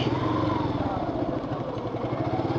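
A motorcycle with a weak battery that sometimes fails to self-start runs steadily up close, its mid-pitched engine drone continuous and fairly loud with a faint clattering texture throughout.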